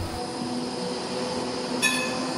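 A low-floor Siemens tram runs through Basel, giving a steady continuous rumble of wheels on rail with a brief sharp squeal or click near the end, heard close and without speech.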